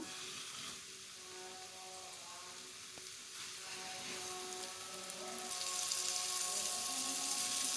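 Fish fillets frying in hot oil, a steady close sizzle and crackle that grows louder and brighter toward the end, with no talking.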